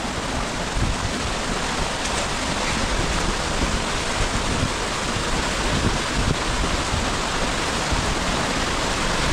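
Gljúfrabúi, a waterfall in Iceland, roars as a steady dense wash of falling water, loud and unbroken throughout with no voices.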